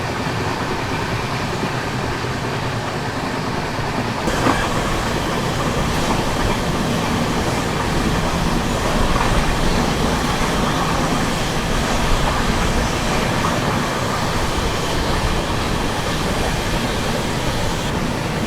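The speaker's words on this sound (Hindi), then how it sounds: "जीटी एक्सप्रेस अपनी 100 की रफ्तार को मेंटेन करके चल रही है।" The 12615 Grand Trunk Express runs at about 100 km/h, a loud, continuous rushing rumble of wheels and carriages with steady rattling, heard alone without talk.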